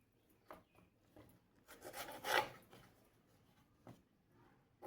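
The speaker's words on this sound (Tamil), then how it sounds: "தக்காளியை கட் பண்ணிக்கலாம்" A knife slices through fresh tomatoes, stems already removed, cut into large chunks for a tomato pickle; soft, close, rasping cuts come in brief bursts, strongest around the middle, with no talking.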